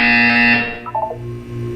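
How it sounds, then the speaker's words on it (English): A loud, harsh electronic buzzer in the video game Portal 2 sounds for about half a second. A few softer tonal blips and a low hum follow. "When you hear the buzzer, look up at the ceiling."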